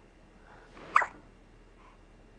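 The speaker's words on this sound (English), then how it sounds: "Hard to focus with those hiccups." A single short hiccup during a family Christmas photo session, one quick sharp burst standing alone over quiet room background.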